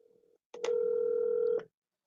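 A phone sounds a short low tone, then a single steady dialing beep holds for about a second, close and clean, with silence after.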